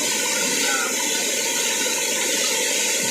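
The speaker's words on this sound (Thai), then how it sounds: "เป็นน้ำตกที่ไหลลงจากหน้าผาบนลงมา" A waterfall pours down from a high cliff at Dai Chong Thong falls in Sangkhla Buri, Kanchanaburi, a steady, loud, unbroken rushing roar with no voices.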